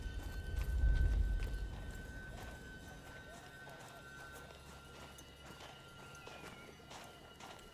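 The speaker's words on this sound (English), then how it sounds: "Now I have a horse." Horse hooves clip-clop in the video game Battlefield 1, a heavier rumbling patter at first that settles into a softer, steady plodding over a low background hum.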